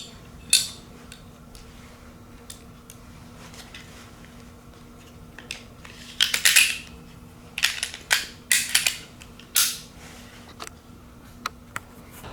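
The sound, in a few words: reassembling a Hellcat pistol after removing barrel and recoil spring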